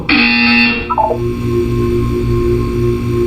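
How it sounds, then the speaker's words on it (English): In the video game Portal 2, a loud electronic buzzer tone sounds for about a second, then breaks into a few short stepped beeps over a steady low mechanical hum. "You will hear a buzzer."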